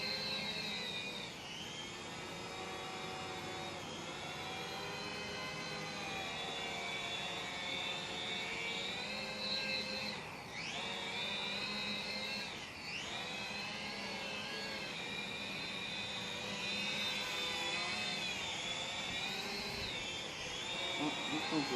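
A TENSSENX TSRC X7 GPS drone hovers and flies slowly, its whining propellers a continuous buzzing drone with small pitch dips, close, while someone talks over it.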